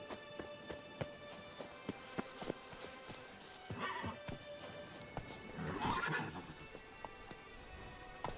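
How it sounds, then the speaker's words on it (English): Geralt's horse Roach in The Witcher 3 video game gives a loud whinny amid a steady clip-clop of hooves, the hoofbeats ticking regularly throughout at moderate distance. "Come on, Roach. Quit hiding"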